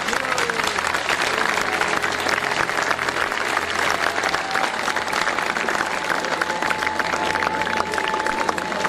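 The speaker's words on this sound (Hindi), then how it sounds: "इम्तियाज साहब के लिए ताली बजाएं।" A crowd at an annual function applauds Imtiaz Sahab with sustained, dense clapping that stays loud and even for the whole stretch, with some voices mixed in beneath it.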